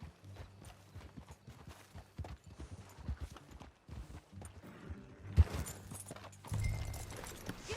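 Horse hooves clip-clopping in Red Dead Redemption, a steady run of rhythmic hoofbeats at a walking pace, moderately close, with a brief louder thump and a burst of ambient game noise toward the end.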